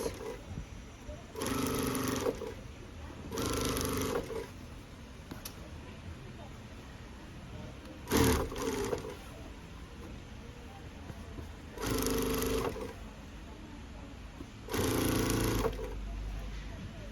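Sewing machine stitching a straight seam along a denim belt made from old jeans, running in five short bursts of rapid mechanical whirring separated by quiet pauses.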